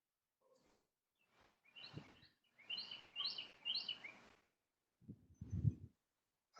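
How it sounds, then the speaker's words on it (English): Birds chirp and tweet outdoors in short bursts, several bright, quick calls at moderate distance, with a few low thumps between them and no speech. "I hear birds chirping."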